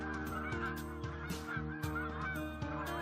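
Canada geese honk continuously, many overlapping nasal calls from a migrating flock that sound loud and fairly close, with layered harmonic cries and no talking.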